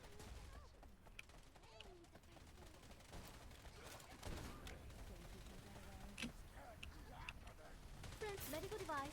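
Gunfire in the video game Wild Assault during a recoil test run: dense bursts of rapid shots and sharp cracks fill the whole stretch, with a voice talking over the shooting.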